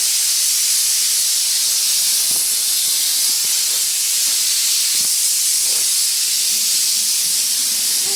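A pressure cooker with dal on the stove hisses steam in a loud, constant, close rush that holds without pause, with a few faint knocks underneath.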